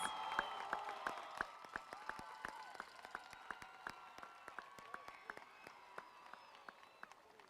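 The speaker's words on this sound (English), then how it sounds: "Let's give them a round of applause." An audience in a hall applauds graduating students at a 2019 high school graduation ceremony: a steady, fairly faint wash of many hands clapping with scattered louder claps and light crowd murmur underneath.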